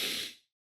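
A single forceful exhalation blown out through the mouth during a deep breathing exercise, a breathy hiss lasting under half a second that fades out into silence, close to the microphone.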